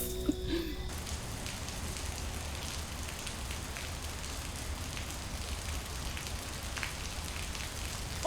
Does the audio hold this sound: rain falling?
yes